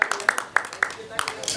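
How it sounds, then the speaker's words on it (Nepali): Audience applause welcoming Nepali actor Dayahang Rai at an event, a few scattered claps at an uneven rhythm, fairly close, with a voice talking over them. "दयाजी एयरपोर्टमा हुनुहुन्छ, त्यही भएर ताली बजाइराखौँ"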